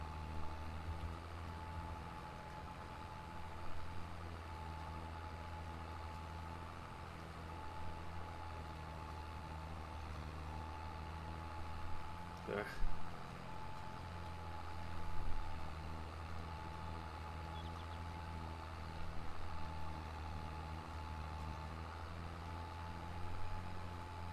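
An International Harvester tractor engine runs at a steady, low idle-like drone on a dairy farm during soybean planting, continuous and fairly quiet with a brief sharp blip midway and no talking.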